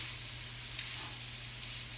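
Meat and onions cook in a pan with a soft, steady sizzle over a low constant hum, fairly faint and unbroken apart from one small tick of contact.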